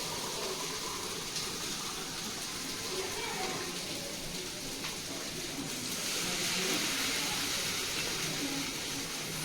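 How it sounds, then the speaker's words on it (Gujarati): A glass of water pours into a pan of sautéing broccoli and almonds, giving a steady gushing splash that swells louder toward the end, with voices faintly present. "1 ગ્લાસ પાણી નાખવાનું."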